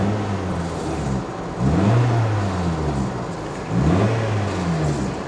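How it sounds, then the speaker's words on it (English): Cheap JDM car engine idling with a blowing exhaust, a steady low rumble that swells twice into brief revs, close and fairly loud with no talk. "You can probably hear that blowing exhaust."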